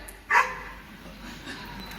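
A single short dog bark rings out near the start, followed by a quieter muffled sound, over low background hiss.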